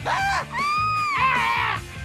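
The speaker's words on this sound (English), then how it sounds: "Okay, everyone, let's do a Drita scream" A crowd on a game-show set screams together on cue, a loud, sustained group shriek with wavering pitches that swells and holds for about two seconds before tailing off, with no separate talk.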